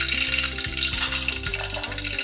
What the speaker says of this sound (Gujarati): હવે આપણે તેમાં રાઈ અને જીરું નાખીશું.